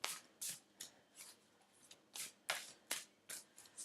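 Druid Craft tarot cards are shuffled in a quick series of crisp riffles and flicks, about a dozen soft bursts close by with no talking.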